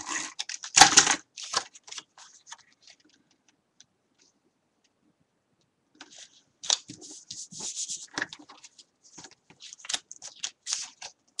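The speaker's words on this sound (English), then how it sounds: "I'm just going to use my tape gun for that" A tape gun is pulled and torn during a canvas album craft session, giving sharp ripping and clicking bursts that stop, go silent, then return as scattered crackles and screeches.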